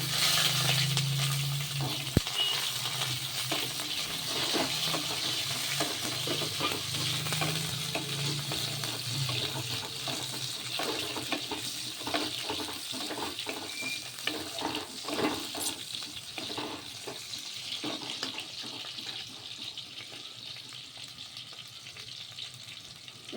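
Eggplant frying in hot oil with nigella seeds and green chilies, a steady close sizzle broken by scraping stirs and occasional clinks of the spatula against the pan.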